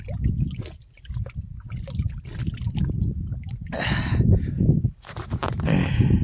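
Water trickles and splashes at a trailside water source on a Sahyadri mountain trek near Madangad, a close, uneven flow with brief pauses and bursts.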